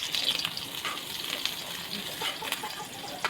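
Cabbage dish being sautéed in a frying pan, giving a steady close sizzle and hiss with occasional stirring scrapes and clatter, no talking over it.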